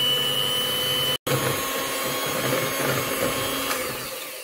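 Electric hand mixer beating a yeasted batter for Indonesian brown-sugar steamed cups, a steady loud motor whir running throughout, cut off briefly near the start before resuming without talk.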